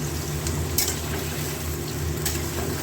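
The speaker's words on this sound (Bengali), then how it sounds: "মিষ্টি আলুগুলো একটু ভাজা ভাজা হবে" Small diced sweet potatoes frying in oil with a nigella seed tempering, a steady low sizzle with a couple of faint scraping stirs, close by and alone.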